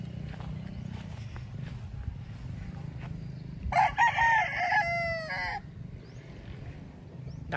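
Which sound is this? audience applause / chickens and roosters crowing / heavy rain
chickens and roosters crowing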